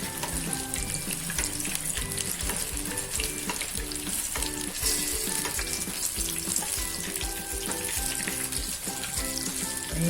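Potato patties sizzle steadily in hot oil, a dense continuous crackle with faint clinks and scrapes layered over it.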